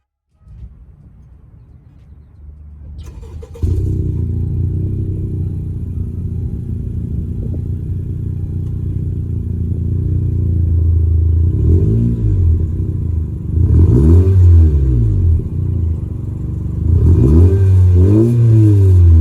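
A 10th-generation Honda Civic hatchback EX with a CVT and a muffler-delete exhaust starts up, settles into a loud, deep idle, then is revved in several rising and falling bursts close by, with no talking.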